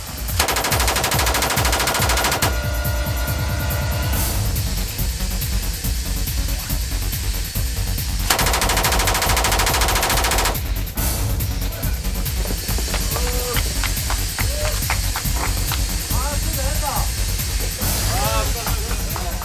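K16 7.62mm machine gun test firing during reliability trials, long sustained bursts of rapid automatic fire, loud and dense, with short breaks between bursts and voices and outdoor noise in the background.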